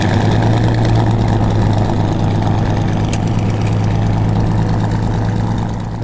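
Twin piston engines of a P-38 Lightning idle loudly and close by, a steady throbbing drone with a deep rumble that holds without a break and eases off slightly at the end.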